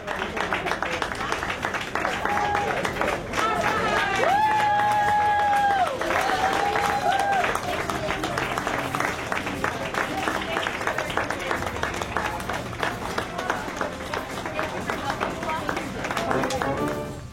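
A crowd welcomes arriving Honor Flight veterans with sustained applause and cheering, loud and continuous throughout, with voices and shouts mixed into the clapping.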